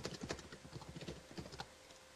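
Quiet, rapid clicking of fingers typing on a computer keyboard, a run of light key taps in a soft, irregular rhythm.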